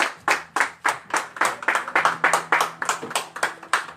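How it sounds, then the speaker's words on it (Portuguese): A church congregation claps joyfully in steady, rhythmic unison, about three claps per second, loud and close, with a faint musical tone humming beneath and no talking. "Podem sentar e as palmas bem alegres para Jesus"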